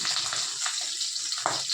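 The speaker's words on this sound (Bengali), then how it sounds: "এই মাছ আর মাছ খুব ফাটে, ওই যে দেখছো ফটফট করে ফাটছে" Fish frying in hot oil gives a constant sizzling hiss broken by scattered pops and crackles, close and fairly loud, with no voices.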